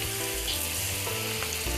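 Onions hitting hot oil set off a steady, close sizzle that carries on without a break, with faint stirring scrapes over a low background hum and no talking.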